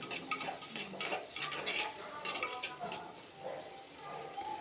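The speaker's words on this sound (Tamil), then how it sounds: "வெங்காயம் ஆட் பண்ணி நல்லா பொன்னிறமாக வர வரைக்கும் நல்லா வணக்கிக்கலாங்க." Onions are sautéed in a clay pot for okra tamarind curry, giving a quiet continuous sizzle with frequent spatula scrapes and stirring strokes, close and soft.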